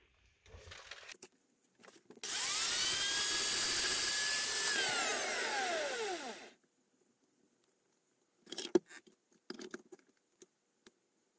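Bosch Uneo cordless hammer drill boring holes, one sustained whining burst of about four seconds with a rising-then-falling pitch, followed later by a few short scattered knocks and clicks.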